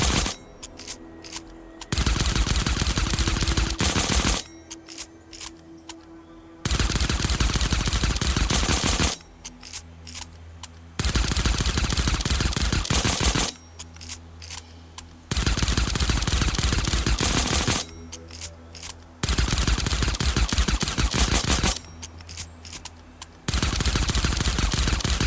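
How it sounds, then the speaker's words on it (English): In a video game, a suppressed pistol fires in repeated rapid bursts of sharp shots separated by short silent gaps, loud and close, with no voices. "Now we move on to the suppressed pistol."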